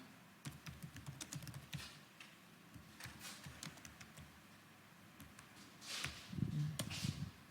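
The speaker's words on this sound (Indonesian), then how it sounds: "Pindah baris kedua, tekan enter." Computer keys are tapped in a steady run of close, light clicks, with a slightly heavier keystroke near the end, while someone enters text into a spreadsheet.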